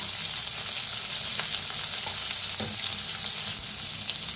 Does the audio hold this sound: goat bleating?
no